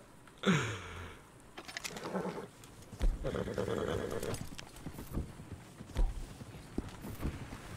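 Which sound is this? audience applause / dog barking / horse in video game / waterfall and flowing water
horse in video game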